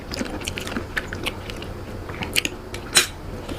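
Close crunchy bites and chewing, a few sharp crackling crunches standing out over soft background noise, with no one talking.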